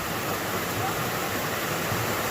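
A waterfall pours steadily in a secluded forest, a dense, even rush of falling water that stays loud and unbroken throughout.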